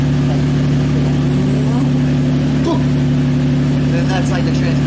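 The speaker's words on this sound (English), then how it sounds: "It's like a diff whine." A CD009 drivetrain on the move gives a steady engine drone with a sustained whine layered on top, continuous and fairly loud throughout.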